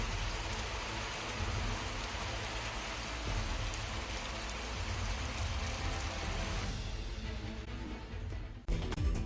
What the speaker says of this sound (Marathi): तर सिंधुदुर्ग जिल्ह्यात मुसळधार पाऊस पडलाय